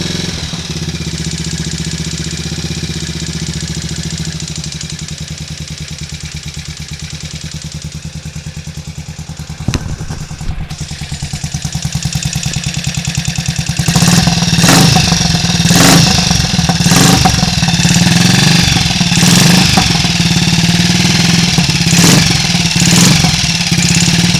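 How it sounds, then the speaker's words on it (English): Triumph Tiger Cub motorcycle engine with ignition timing set too retarded, idling steadily up close, then revving loudly in repeated bursts that drag and bog as the throttle opens. "Just tell there when I try and rev it up, that sort of drag, that means the ignition's too retarded."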